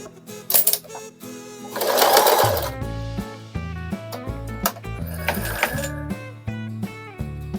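A sewing machine stitches through jeans being mended, a rhythmic mechanical clatter of needle strokes with short pauses and a few louder bursts, close and alone.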